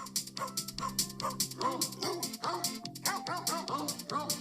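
A novelty album track from 1995 in which recorded dog barks and yips are pitched into a jingling Christmas melody, the barks falling in a steady rhythmic sequence over a tuned musical backing throughout.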